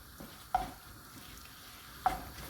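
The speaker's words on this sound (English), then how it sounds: "What I'm going to do now is add my garlic, mix that around," Garlic sizzles in a pan on steady heat, a soft continuous hiss punctuated by two clear scrapes or taps of a spoon stirring, close and quiet, no voices.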